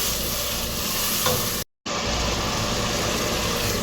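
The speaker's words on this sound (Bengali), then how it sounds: "এটাকে আমি ভালো করে কষিয়ে নেব, যতক্ষণ না এটার উপর তেল উঠে আসবে ততক্ষণ আমি এটা এভাবেই কষাবো" Ground spices sautéing in oil for a Bengali rohu fish-head muri ghonto, a dense steady sizzle with stirring, cut by a brief gap of silence before resuming, no talking.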